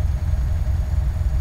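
Scania R730 truck engine idling in the Euro Truck driving game, a steady low rumble with a faint whine mixed in, continuous and even throughout with no talk.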